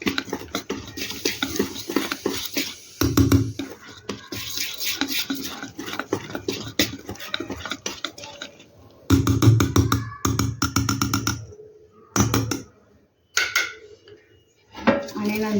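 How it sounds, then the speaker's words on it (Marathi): Dhokla batter is stirred in a bowl with a spoon, giving rapid, rhythmic scraping and clinking against the vessel in bursts with short pauses, close and moderately loud. "पीठ एकाच दिशेने फिरवायचं आहे"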